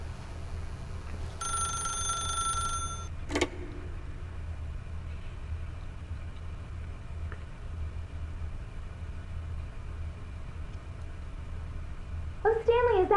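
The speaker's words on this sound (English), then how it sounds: "then pick up the phone." A telephone in the video game The Stanley Parable gives a burst of electronic ringing, then a sharp click. Low background hum runs beneath it, and near the end another brief ringing tone starts.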